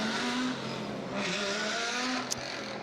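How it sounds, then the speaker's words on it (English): A Smeg Racing Audi race car roars along the circuit at an endurance race, its engine note sustained and shifting in pitch as it drives past, with a brief sharp tick near the end. "There is the Smeg Racing Audi."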